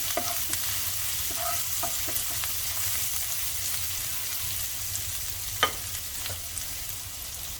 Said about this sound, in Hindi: इसे 1 मिनट के लिए भून लेंगे घी में